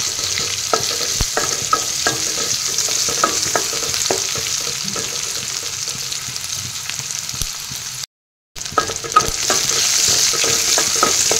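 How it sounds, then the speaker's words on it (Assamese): Onions sizzle loudly in a hot pan while a spoon scrapes and stirs in repeated strokes, close up, with one short silent gap. "পিঁয়াজখিনি এনেদৰে ভাজি লওঁ অলপ ৰংচঙুৱা কৰি লওঁ"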